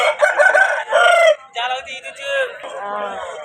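Close, loud crowing from a fighting rooster at a Vijayawada poultry market: a harsh rising crow breaks off, then a second drawn-out crow trails away.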